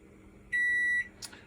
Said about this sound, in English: Alright, there's my timer.